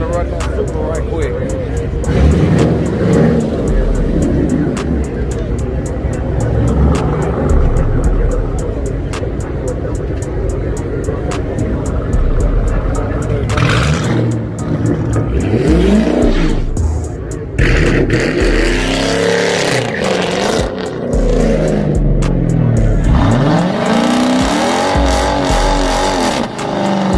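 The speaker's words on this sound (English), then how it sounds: "I'm gonna run that Supra right quick." A Toyota Supra race car with an intake and downpipe accelerates hard down a drag strip, loud engine roar and shifting pitch sweeps, while people shout and talk over it nearby.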